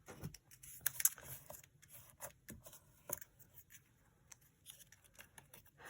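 Scissors cut through craft paper for a journaling card in a series of quiet, close snips and crisp rustles, irregular and spread over several seconds.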